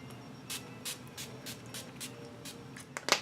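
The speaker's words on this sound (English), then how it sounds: "Now I'm going to go in here with Urban Decay's All Nighter Makeup Setting Spray." A series of short, soft bursts of Urban Decay All Nighter setting spray onto a face in a loose rhythm, close by and fairly quiet, ending with a brief rustle.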